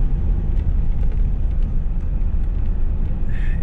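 A 1983 Oldsmobile 98 with a transmission that slips and fails to fully engage second gear, heard as a steady low engine and road rumble while driving, with no distinct shift change.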